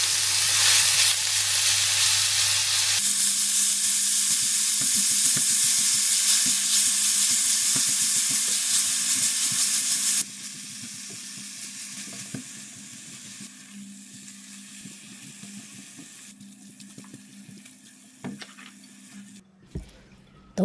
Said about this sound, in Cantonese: 將啲肉碎炒大概3分鐘度啦